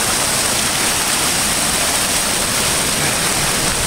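Torrent of flash flood water rushing beneath a bridge, a loud, steady broadband roar with no let-up, close and dense throughout.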